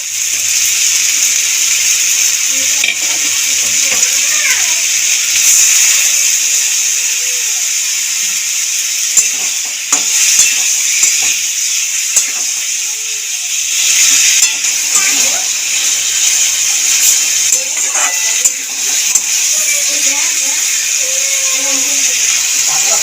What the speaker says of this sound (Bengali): আলুটাকে মশলার সাথে এবার পরিমাণ মতন জল দিয়ে দেবো